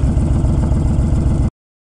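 A motorcycle engine idles close by with a rough, even low chugging pulse for about a second and a half, then cuts off abruptly to silence.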